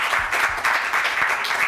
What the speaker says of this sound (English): Please, let's give a round of applause to this outstanding philanthropist